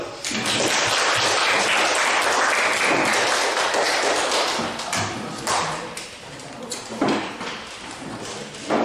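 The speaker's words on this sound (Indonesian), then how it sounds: "Tepuk tangan dulu." A classroom of students bursts into loud, dense clapping that fills the room, then tapers into scattered claps and thumps toward the end.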